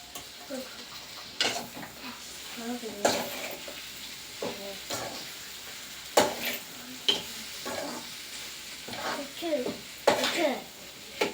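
Okra being stirred in a frying pan at home, with soft sizzling under repeated scraping stir strokes and occasional utensil clinks, moderately close.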